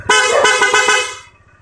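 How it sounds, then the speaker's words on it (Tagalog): An aftermarket motorcycle horn blares loudly at close range in four quick pulsing honks, with no other sound around it, and then fades away. "Loud horn with passing."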